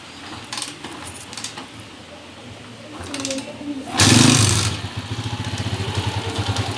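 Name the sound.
Honda TMX 155 motorcycle engine starting and running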